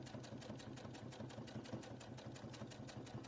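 A sewing machine runs steadily, stitching decorative stitches along curves around a fabric Easter egg, its rapid even needle rhythm close and continuous with no talking.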